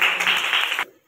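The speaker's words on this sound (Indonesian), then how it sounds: "Tepuk tangan." Students in a classroom clapping for a group returning to their seats, a dense burst of applause that cuts off abruptly near the end.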